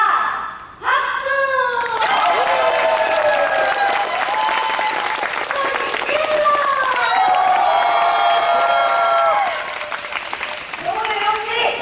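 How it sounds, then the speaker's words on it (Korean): Crowd applause and cheering at an outdoor Anseong Namsadangnori traditional Korean tightrope show, steady and dense for several seconds beneath loud, tonal voices or music. "박수!"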